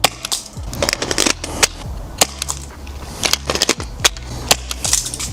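A Tokyo Marui HK M320A1 gas airsoft grenade launcher fires in a run of sharp, close pops spaced roughly half a second to a second apart, with clicks and handling knocks of the launcher between shots.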